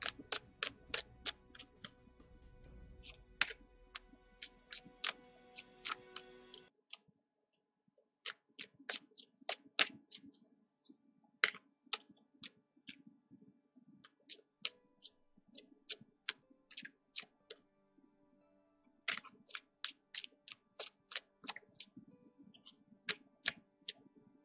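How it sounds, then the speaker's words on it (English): Tarot cards being shuffled by hand, a long run of quick crisp riffling clicks in bursts with short pauses between them, close and fairly faint over a low hum. "I'm going to shuffle the cards"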